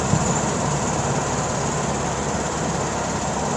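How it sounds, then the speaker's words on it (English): A 1966 Volkswagen Beetle climbs a bridge in fourth gear, its engine a steady droning hum mixed with road and wind noise heard from inside the car. "Running up the bridge right now in fourth gear with no issues, no slippage."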